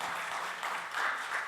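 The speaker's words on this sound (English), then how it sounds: "you can give a round of applause" A brief, fairly faint burst of audience clapping at a disability awareness event, a soft wash of hands that swells slightly toward the end of the short stretch.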